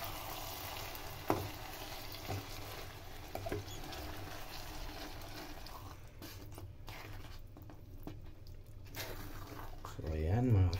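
Burong isda, fermented rice with fish, is stirred in a pan while it cooks, giving a soft scraping and light sizzle under a low, steady kitchen hum, with a few sharper knocks and some louder clatter near the end.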